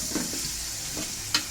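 Cabbage fries in a thin wok over a low gas flame, giving a steady close sizzle broken by a few sharp stirring scrapes, with no talking.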